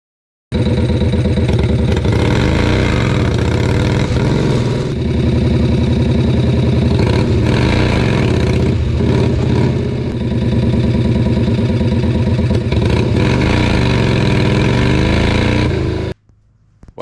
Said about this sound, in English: Put a Sportster motor in a Harley golf cart.